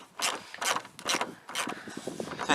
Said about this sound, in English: we just need to take these screws out